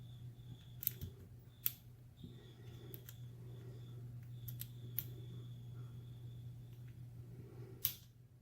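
Sharp, isolated clicks from pins inside a Sas Pes lock being picked, about half a dozen faint snaps scattered across the stretch over a steady low hum, with no voices.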